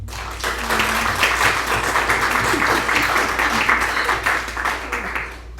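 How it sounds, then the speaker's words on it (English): Warm, sustained applause from an audience at a bookstore author event, many hands clapping at once in a dense, even wash that tapers off toward the end. "So please join me in applauding Lee"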